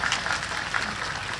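Audience applause at an Indonesian religious gathering, a steady wash of many hands clapping at a moderate distance. It is continuous and even, with no voices standing out.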